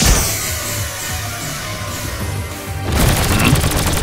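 Gunshots in a Skibidi Toilet animation, a continuous loud rattle of rapid fire with booming low thuds, swelling into sharper, denser bursts near the end.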